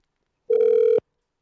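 A single telephone ring, a steady electronic tone lasting about half a second, clear and fairly loud, heard alone with silence before and after.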